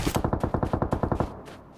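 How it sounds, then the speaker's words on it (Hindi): Rapid burst of about a dozen gunshots in Battlegrounds Mobile India on the Livik map, loud and evenly spaced, fading into a quieter tail with no talk. "वहाँ से गोली चल रही है"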